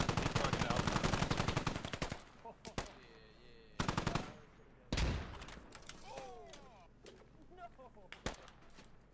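Automatic gunfire rattles in rapid bursts during an online squad shooter match, then gives way to scattered single shots and distant pops. Players talk and shout over the gunfire.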